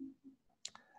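A pair of quick, crisp computer mouse clicks close by while a portfolio website is built, preceded by a brief faint murmur of speech.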